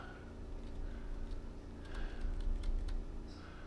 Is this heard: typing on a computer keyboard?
yes